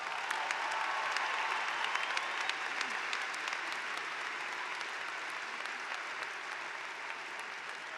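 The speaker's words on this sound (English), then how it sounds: "Please join me in showing our appreciation with a round of applause for their efforts" A large crowd at a university commencement ceremony applauds, a broad wash of clapping that stays steady and sustained throughout, heard from a distance within a big venue.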